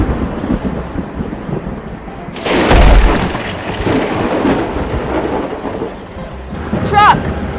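A loud, close thunderclap booms over steady heavy rain during a thunder and lightning storm, followed a few seconds later by a second sharp crackle of thunder.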